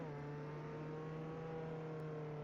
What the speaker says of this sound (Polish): Ten głos z tego samochodu jest potężny głośny.